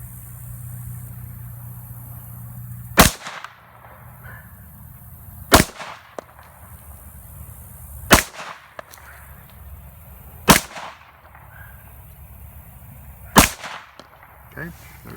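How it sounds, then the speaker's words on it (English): Five evenly spaced gunshots from a Kimber 1911 pistol firing Hornady 9mm 115-grain rounds at an outdoor range, each a sharp loud crack about two and a half seconds apart over low background noise. "we're going to go ahead and fire off a few rounds here"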